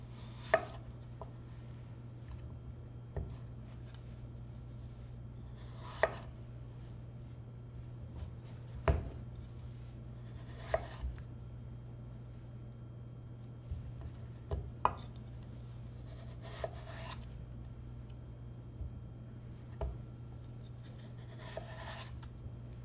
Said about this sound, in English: Cut the edges off so that they are straight 90-degree angles.